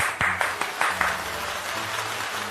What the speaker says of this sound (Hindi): तो जोरदार तालियों के साथ स्वागत करिए आदरणीय सदाशिव चतुर्वेदी मधुर सर जी का